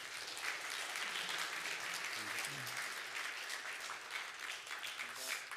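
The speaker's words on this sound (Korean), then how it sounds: "다시 한번 큰 박수로 우리 축복해 주시면 감사하겠습니다" Applause fills a church hall during a Sunday service, a dense, sustained clapping from the congregation that stays steady and loud throughout, with faint speech beneath it.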